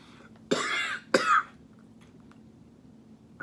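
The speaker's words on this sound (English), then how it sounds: "I can't get through this video without hacking with almost every bite." A person eating Inferno Candy Co Heat Wave Blistering Apple Pie Chex gives two harsh, close coughs in quick succession, then a quiet pause with a faint click.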